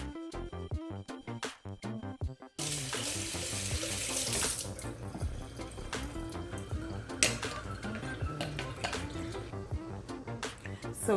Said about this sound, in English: Rinse until the water runs clear.